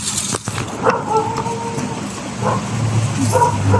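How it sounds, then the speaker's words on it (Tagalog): A dog barks a few short times, with the barks heard at a moderate distance through background noise and voices. "Bakit may aso?"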